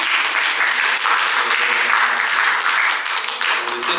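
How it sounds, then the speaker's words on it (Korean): A Korean church congregation at a Sunday worship service bursts into full, loud applause to welcome visitors, a thick, sustained wash of many hands clapping from start to finish. "우리 박수로 환영을."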